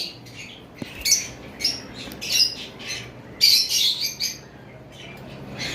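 Pet birds kept for sale at a bird farm, several loud close squawks and shrill calls in irregular bursts over a quiet background.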